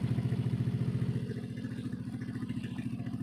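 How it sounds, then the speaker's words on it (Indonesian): A motorcycle engine idles steadily just after starting, with a rapid, even low pulsing that stays close and constant throughout. "ini motornya menyala normal"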